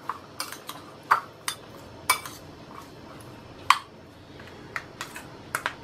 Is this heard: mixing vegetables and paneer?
yes